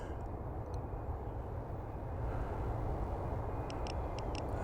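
A Rogue VTOL model aircraft's motor drones steadily in flight, a continuous broadband whine and hum that holds a constant level and swells slightly as throttle increases.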